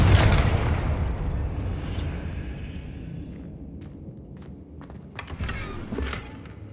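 A fiery Confringo blasting curse detonating in Hogwarts Legacy, a loud booming explosion at the start that rumbles and decays over several seconds, followed by scattered crackling debris and small impacts.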